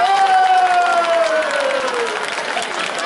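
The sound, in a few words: concert audience applause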